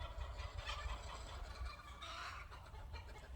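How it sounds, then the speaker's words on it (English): A backyard hen clucks and cackles in loud, repeated squawks after laying an egg, close by and continuous, with low rumbling in the background. "Somebody's laying an egg. I love how chickens just like to let it known."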